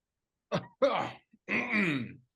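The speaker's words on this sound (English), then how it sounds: "Let me clear my throat." A person clears their throat up close: a short grunt, a harsher rasping burst, then a longer voiced, gravelly throat-clearing sound.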